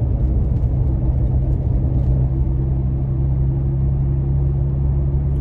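Aggressive off-road tires on a Toyota Tacoma rolling over pavement, a steady low rumbling drone with a faint tonal hum, continuous and close throughout.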